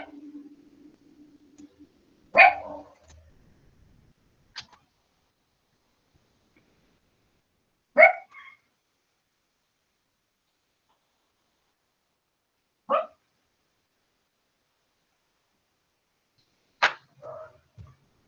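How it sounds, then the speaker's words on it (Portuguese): A pet dog barks in short single yaps spaced several seconds apart, close by in an otherwise quiet room, with a brief murmur of voice at the start. "meu cachorro está aqui do meu lado, ele está latindo um pouquinho"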